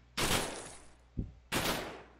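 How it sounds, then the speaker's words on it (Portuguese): Machine gun fire in the Brazilian video game RIO - Raised In Oblivion, heard as two short, loud bursts with a brief clack between them, close and alone with no talk. "Ah, é muito da hora, mano, essa metralhadora."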